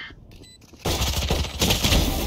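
Automatic gunfire in the tactical shooter Valorant, a quiet lull then a sudden sustained loud spray of rapid shots lasting over a second.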